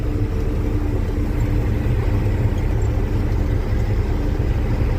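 A tractor engine with a loud straight pipe exhaust, out drilling wheat, rumbles at a steady low, heavy drone up close without pause.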